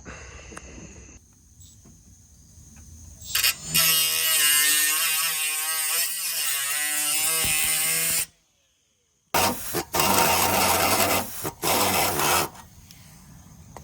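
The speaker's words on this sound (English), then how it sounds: "Old Harbor Freight air saw sucks." An old Harbor Freight pneumatic air saw cutting a coupler on an EJ1 Honda Civic headlight air duct: a loud, buzzing reciprocating whine that runs for several seconds, breaks off and starts again in shorter bursts, ending with a hiss.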